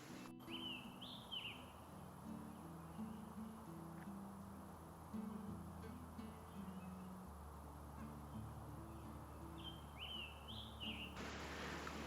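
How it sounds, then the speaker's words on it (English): Wild birds in Mill Mountain Park in Roanoke give short, bright chirping phrases in two brief bursts, fairly distant and faint over a steady low outdoor rumble. "We also heard a ton of different birds while we were there."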